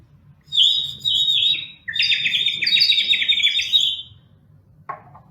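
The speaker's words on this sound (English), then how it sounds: "the birds were chirping away happily" Small birds chirp in a garden, quick descending series of bright tweets repeating close by, with a faint low murmur underneath and a short call at the end.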